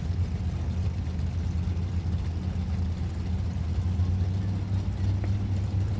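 Drag racing cars, including a roadster, leave the throttle stop at Sonoma in a steady, heavy low engine rumble that holds for several seconds without talk.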